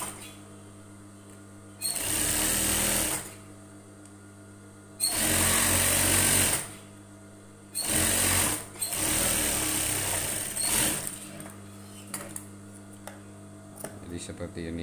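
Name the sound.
sewing machine stitching a collar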